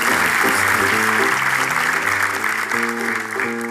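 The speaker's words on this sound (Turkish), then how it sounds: "Gönder anneyi alkışlarla yerine" A studio audience at a television game show applauds steadily as a mother is sent back to her seat, with continuous clapping running over a backing music track with a repeating bass pattern.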